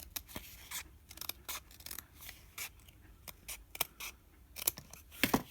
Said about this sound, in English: I'm just going to trim up the like fold part on both sides because it's a little bit folded over still